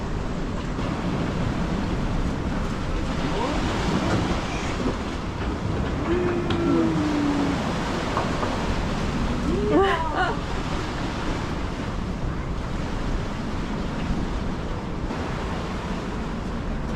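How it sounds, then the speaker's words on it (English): Ocean waves break against a sailboat on an offshore passage from Tokyo to Hokkaido, a steady broadband rush and wash of water with faint creaks and a brief tonal squeak, continuous and fairly loud throughout. "every second the third wave is breaking, so when that water hits us, it just Yeah. twists us one way or the other"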